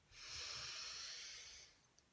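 A person takes one long, slow breath during a breathing exercise, a soft, steady airy hiss close by and fairly quiet, ending with a brief faint sound.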